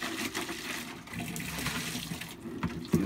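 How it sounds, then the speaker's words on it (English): Water runs and splashes while a plastic clone bucket is rinsed out, a continuous close gush for about three seconds with no talking. "Rinse it thoroughly."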